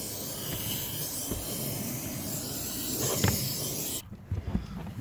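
Lysol disinfectant spray hisses steadily into the air vent of a Volkswagen R, a continuous close-up rush lasting about four seconds before cutting off, followed by a few faint knocks.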